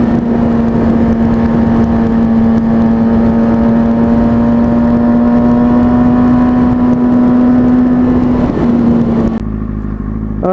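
Motorcycle engine holding a steady, loud drone with a strong constant hum, throttle eased in gently without sharp revs; the sound cuts off abruptly near the end.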